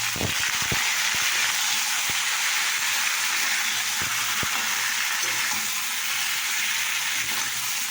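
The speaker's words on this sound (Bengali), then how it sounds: "এইরকমই নাড়াচাড়া করবো।" Cauliflower and potatoes fry in a pan with a steady, loud sizzle while a utensil stirs them, giving occasional scraping clicks. No voices are heard.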